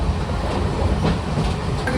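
Steady rumble of a train rolling along the rails, with a rhythmic clatter of wheels under the dense, continuous noise.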